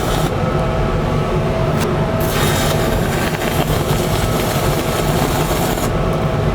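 Arc welding a weld bead produces a loud, continuous crackling sizzle, dense and unbroken throughout, with brief brighter hisses riding on top.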